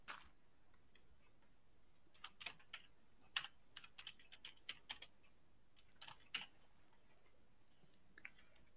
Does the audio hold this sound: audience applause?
no